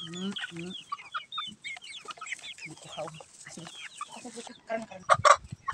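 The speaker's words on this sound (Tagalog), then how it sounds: "amo na ni amon nga manok karon" Farm chickens fed a turmeric and chili supplement cluck and squawk in overlapping bursts, a busy flock close by, growing louder and more frantic near the end.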